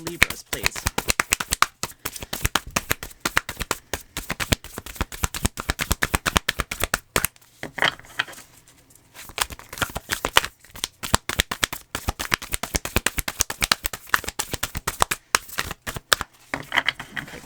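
Tarot cards are shuffled rapidly by hand, a dense run of crisp riffling clicks close to the microphone, briefly pausing midway before resuming just as fast.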